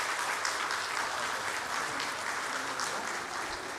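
A church congregation applauds during a Sunday service, a steady, dense wash of clapping from many hands that holds evenly for the whole stretch with no talk over it.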